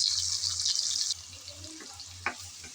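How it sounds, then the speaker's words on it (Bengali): Ground spice paste hitting hot oil left from frying fish, a loud bright sizzle that flares at first, then settles into a quieter steady frying hiss with a small clink near the end. "এখন আমি সেই গরম তেলের উপর দিয়ে দিলাম সে বেটে রাখা মশলার পেস্ট।"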